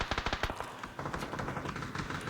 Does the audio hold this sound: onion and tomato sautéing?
no